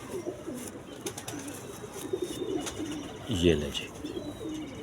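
Pigeon cooing from a high flyer bird in Karachi, a soft low throaty coo that swells briefly near the end, with someone speaking over it and faint background noise.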